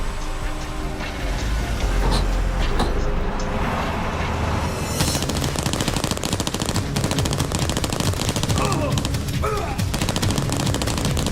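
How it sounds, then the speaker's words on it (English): Rapid bursts of automatic gunfire crackle continuously, loud and close, with dense rattling volleys throughout. "Gunfire reported from the warehouse on the corner of Seraphim Boulevard and Cherubim Way."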